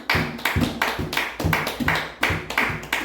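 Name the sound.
congregation applauding in church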